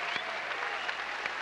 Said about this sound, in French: Et ça va se terminer, bien sûr, par de formidables applaudissements pour celui qui a 22 ans inscrit son nom au palmarès de Roland Garros.